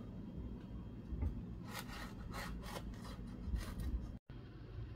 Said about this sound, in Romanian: E bine să-l tăiem cât este cald.